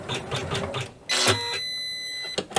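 An embroidery machine stitches a second colour into a quilted zipper pouch backed with felt. It makes a quiet run of rapid rhythmic needle taps, then a brief louder whirring burst with a faint tonal hum.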